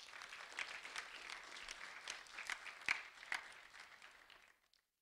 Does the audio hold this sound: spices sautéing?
no